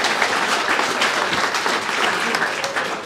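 An audience at a venture capital funding event breaks into steady, continuous applause, with a voice speaking over the clapping.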